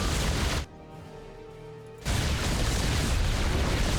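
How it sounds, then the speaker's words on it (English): Yamato cannon shots from massed Battlecruisers blasting through defenses in StarCraft 2: a loud, broad roar that cuts out briefly into a hushed, tonal lull, then surges back into a sustained, dense barrage. "Here we go, Yamato cannons. Blasting through the defenses."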